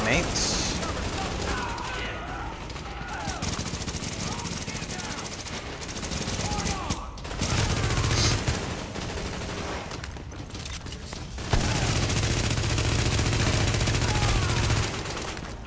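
Rapid automatic gunfire from Tom Clancy's The Division, a weapon firing in the 800 rounds-per-minute range, crackles in repeated sustained bursts with brief pauses, loud and close, with game sounds and a voice talking over parts of it.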